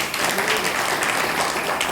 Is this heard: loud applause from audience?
yes